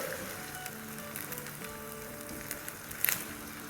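Minced meat fries with onions, garlic and ginger over a medium-high flame, giving a steady, faint crackling sizzle with a few small pops.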